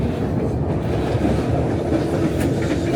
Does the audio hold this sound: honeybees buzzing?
no